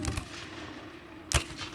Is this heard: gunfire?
yes